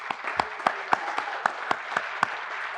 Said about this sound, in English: Go ahead and give some applause.